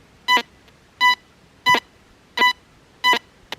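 Deus 2 metal detector running the WS6 program, giving five short, evenly spaced beeps roughly two-thirds of a second apart, bright and clear against a quiet background with no talk.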